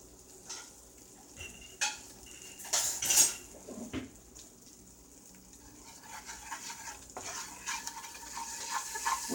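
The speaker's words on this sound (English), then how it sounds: "So we want to add the flour to the skillet. We want to stir it." Flour is stirred into meat juices in a skillet for gravy, a utensil scraping and clinking against the pan over a soft continuous sizzle, with irregular louder knocks, close up and without talking.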